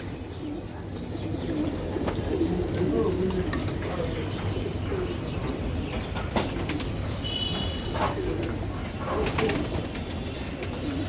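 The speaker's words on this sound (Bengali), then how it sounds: "খুবই সুন্দর এক পেয়ার কবুতর আপনারা কালেকশন করলে অবশ্যই করতে পারবেন আমার থেকে" Pair of blue pied racer pigeons cooing softly and steadily, with occasional wing flaps and brief chirps from other birds, all under a constant low hum.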